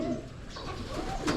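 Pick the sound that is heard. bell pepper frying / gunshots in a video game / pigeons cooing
pigeons cooing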